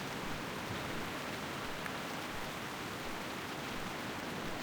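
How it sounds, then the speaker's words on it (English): Heavy rain in the video game World of Warcraft Classic roars steadily, a dense, even hiss with no breaks, loud and constant throughout. "Really raining here, huh?"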